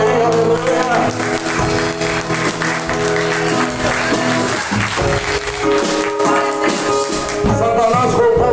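Church congregation claps during a Portuguese-language sermon, steady applause running throughout with music and a voice sounding over it.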